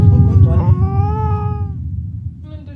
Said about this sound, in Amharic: የድመት ድምፅ ነው